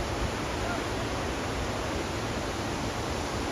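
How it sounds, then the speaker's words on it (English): Broad, steady roar of an amazing waterfall seen from a trail through the trees, heard as a constant wash of rushing water that fills the whole stretch without pause. "it's a really amazing waterfall over there"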